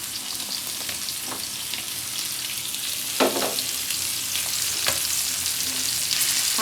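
Fish pieces fry lightly in a pan with a steady close sizzle and a few sharp spatters and scraping stirs breaking through, no talking.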